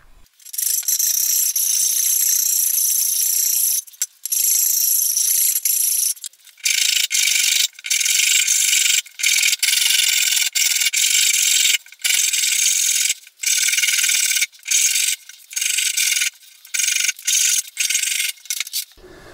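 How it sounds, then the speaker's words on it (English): Shinto saw rasp stripping wood from a Precision bass guitar body, repeated loud rasping strokes in bursts of one to two seconds with short pauses between, close and without talking. "so that's the bulk of the waste taken out there with the saw rasp"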